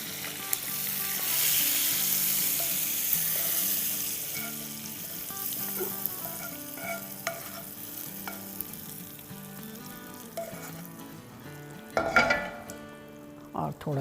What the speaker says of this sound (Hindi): चूल्हे को करते हैं बंद और ये तड़का देते हैं इसमें